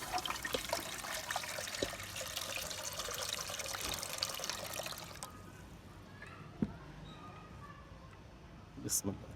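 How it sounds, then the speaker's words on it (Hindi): Water pours into a pot set over a lit stove flame for boiling Lahori-style magaz (brain), a steady splashing stream for about five seconds that then stops, leaving quieter kitchen sounds and a few clinks, with a person talking. "अब हम इसमें पानी डालेंगे मगज़ बॉयल करने के लिए।"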